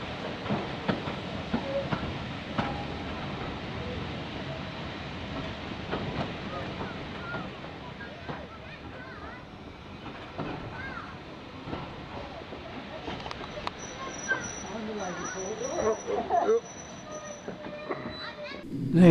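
A heritage train on the Great Central Railway near Leicester North rumbles steadily along the rails with clattering wheels and occasional faint squeals, continuous and moderately close, with some wind buffeting.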